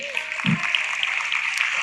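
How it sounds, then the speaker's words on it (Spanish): A church congregation applauds during a service, a steady wash of clapping filling the whole moment, with a brief low voice near the start. "Un aplauso para Jesús"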